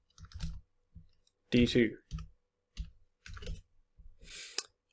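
A formula being typed on a computer keyboard: a short run of sharp, close key clicks in irregular bursts, with a person speaking briefly in between.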